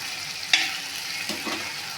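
Rock fish (paarai meen) frying in a pan, a soft steady sizzle with a sharp clatter as a fillet is flipped, then quieter stirring and scraping sounds.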